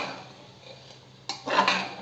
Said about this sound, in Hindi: अब सारे को हम अच्छे से मिक्स कर लेंगे